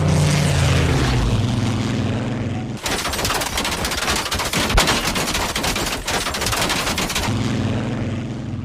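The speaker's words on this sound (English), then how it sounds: "a British fighter plane passed on top of them and rained the cars with gunfire" A British World War 2 propeller fighter plane roars past overhead while rapid machine-gun bursts rattle loudly for several seconds, then the engine drone continues alone.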